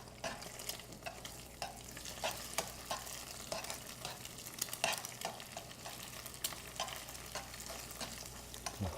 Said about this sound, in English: that's egg cooking.